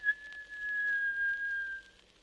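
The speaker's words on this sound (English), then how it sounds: "He pushed it open and gave a shrill whistle." A single shrill, steady whistle held for nearly two seconds at one high pitch, clear against a quiet background.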